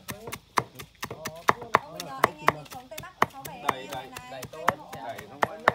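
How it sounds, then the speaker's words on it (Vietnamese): Fish being finely minced with a knife for a sour dip, in a Northwest Vietnamese outdoor cooking gathering; rapid steady chopping strikes on a board continue throughout, with background talk and noise. "Giờ sẽ băm nhỏ ra và tí cho vào cái nước băm chua."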